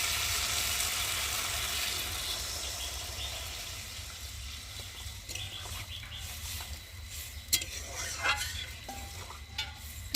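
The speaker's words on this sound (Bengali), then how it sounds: "ভালো করে নেড়ে নিই" A spoon stirs a watery fish curry with green peas and drumsticks in a metal pan, giving scattered scrapes and clinks over a steady low hum, with a few louder knocks near the end.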